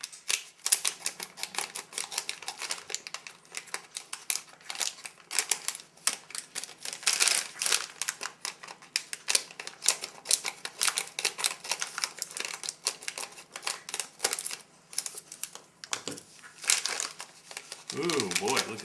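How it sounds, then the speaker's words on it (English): Plastic ration-pack packet of tropical fruit and nut mix being torn and crinkled open at close range, a long run of dense rustling, crackling and ripping; a voice speaks at points over the handling. "Let's open up the tropical fruit and nut mix."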